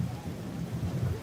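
Steady heavy rain pours down at a French château, a dense continuous hiss with a low rumbling undertone and no voices.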